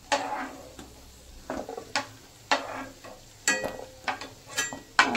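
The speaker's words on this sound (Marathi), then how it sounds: "काजू फ्राय करून घेऊयात। भाजले जातात, परतले जातात।" Cashews frying in a pan, a soft sizzle under repeated scraping and clinking strokes of a spoon stirring them, irregular and close by.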